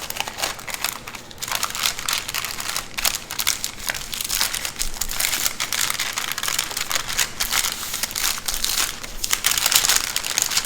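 Baking paper crinkles and rustles steadily as it is pulled forward to roll up a cheese log, a close, continuous crumpling texture with sharp crackly bursts throughout.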